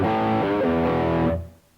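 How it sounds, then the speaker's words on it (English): An electric guitar played with a crunch tone, a clean sound with a little dirt, rings out a sustained chord with a few shifting notes, then is cut off and fades into near silence. "crunch tone is basically a clean sound with a little bit more dirt or distortion on it."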